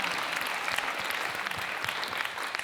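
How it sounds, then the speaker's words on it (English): Audience applause at a panel salon event, a steady dense wash of many hands clapping throughout, fairly loud and close, with no talk over it. "let's clap for that, awesome."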